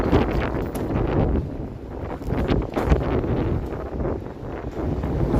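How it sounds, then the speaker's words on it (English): Strong gusty wind buffeting the microphone on a cold evening in downtown Toronto, a loud continuous low rumble that surges and dips with the gusts for the whole stretch. "holy wind."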